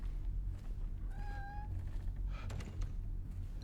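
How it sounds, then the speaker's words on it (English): In the Silent Hill 2 Remake video game, a door creaks with a short, high, meow-like whine that sounds like a cat, rising once over a low droning ambient rumble. "That was just the door creaking, right?"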